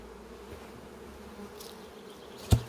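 Honey bees hum steadily around an open beehive as it is being set in place, a soft continuous buzz close by, with a sharp knock near the end.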